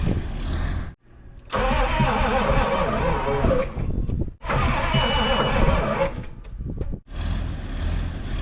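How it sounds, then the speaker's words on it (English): A John Deere 850J dozer's diesel engine, run without engine oil, cranks over in three long bursts separated by short silences, each a loud, labored churning that slows as it goes. "the engine is cranking over real slow. It kind of starts turning over quick, and then it starts slowing down."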